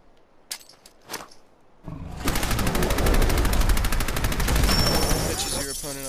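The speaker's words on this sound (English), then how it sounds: "Fire submachine gun." A fire submachine gun from a modded Fallout 4 on PS4 unleashes sustained rapid automatic fire after a couple of faint early pops, a dense loud roaring burst that lasts several seconds before thinning out.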